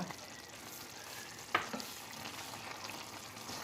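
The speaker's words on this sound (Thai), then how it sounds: "คนให้เข้ากันนะคะ แล้วก็ทิ้งไว้ให้สุก" Ragu sauce cooking in a pan, a soft continuous bubbling sizzle with occasional light stirring strokes and one brief sharp clink midway, quiet and even throughout.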